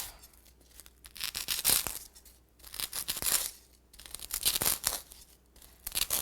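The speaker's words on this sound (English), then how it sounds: "so I'm going to carve it down a little bit on the sides" A 3.8 inch candy ball is carved down at the sides for a no-bake Valentine's bouquet, giving repeated rough scraping and tearing strokes in bursts with short pauses, close and fairly quiet.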